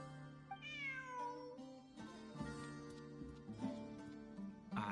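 A cat meows in a video game, a few drawn-out, rising-and-falling cries over steady game music.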